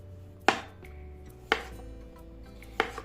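Three crisp knife cuts slicing peeled potatoes into rounds onto a cutting board, spaced about a second apart, close by with a quiet background.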